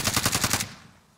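Rapid automatic fire from a Krig 6 rifle in the Warzone battle royale, around six quick punchy shots in a tight even rhythm, loud and close, cut off abruptly and trailing into a short fading echo.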